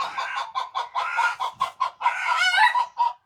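Chickens cluck in a rapid string of short, choppy calls, fairly close and clear, one bird rising into a longer crowing-like squawk near the middle of the run.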